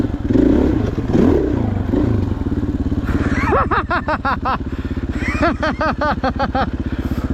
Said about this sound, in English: That is no longer a tame motorcycle.